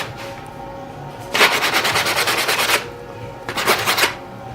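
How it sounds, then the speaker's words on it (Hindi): Sandpaper rubbed by hand over a small part of a sewing machine foot pedal, heard as two bursts of quick, rhythmic rasping strokes, the first longer than the second, close and fairly loud, with no talk. "हम इस हिस्से को थोड़ा सा घिसाई करेंगे किसी रेगमाल की मदद से"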